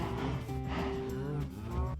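A cow moos in the Minecraft video game, a long drawn-out bovine call with strong tonal harmonics, close and loud over a busy background, with no talking.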